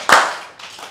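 An audience gives a short, sharp burst of hand clapping that quickly thins out, followed by a softer scattered patter of a few claps, with no voices.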